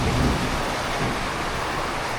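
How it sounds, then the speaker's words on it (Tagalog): Heavy storm rain during a typhoon on Magalawa Island, Zambales, a loud, unbroken roaring downpour with gusty low rumble, no voices heard. "Sobrang lakas ng ulan pa rin."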